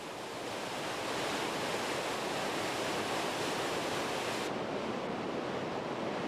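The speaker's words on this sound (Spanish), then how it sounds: "La cascada está dividida en 3 caídas de casi 200 metros cada una." A large European waterfall with three drops and a total height of 480 metres gives a dense, steady roar of falling water that is loud and continuous throughout.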